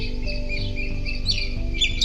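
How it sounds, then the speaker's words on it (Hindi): Birds chirp on a hotel terrace in Manali in the early morning, brief high tweets and calls rising over a low background hum, fairly faint and intermittent. "बर्ड्स की चैंटिंग, चिड़ियों की चहचहाहट"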